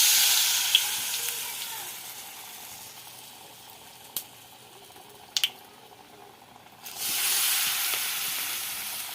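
A sesame-coated potato roll fries in hot oil with a steady, loud sizzling hiss. The hiss eases in the middle with a few sharp crackles and pops, then surges again near the end.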